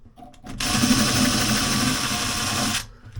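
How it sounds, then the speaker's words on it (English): A power drill with a 6mm bit drills out a tight dowel hole in a cupboard door, whirring loudly and steadily for about two seconds before stopping. "it's a bit too tight, so we'll drill that out with a 6mm bit"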